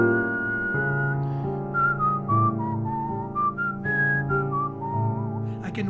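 A person whistles a wandering melody over a sustained piano accompaniment. The whistling is clear and close, its pitch gliding between phrases above steady chords, with no speech.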